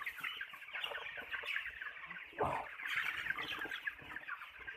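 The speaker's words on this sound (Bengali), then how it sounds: "শীতকালে মুরগিগুলো এরকম দলাইয়া এক জাত বসে থাকে" A flock of broiler chickens clucks continuously in an enclosed shed in winter, with a louder squawk partway through.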